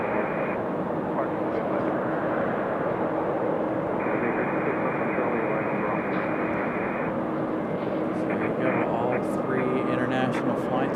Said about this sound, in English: JetBlue sitting at the end of the runway waiting for their takeoff clearance to make their way back to Boston.